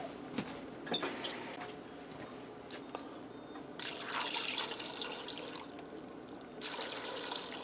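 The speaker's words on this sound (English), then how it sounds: "I'm going to get a little more water." More water is poured into a pressure cooker. There are a few faint clinks at first, then two close bursts of splashing pouring.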